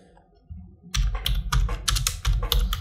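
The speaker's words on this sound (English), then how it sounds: "Select the text and type the callout text" Fast, uneven tapping on a computer keyboard, close and clear, typing a short line of text in bursts of crisp clicks after a brief quiet start.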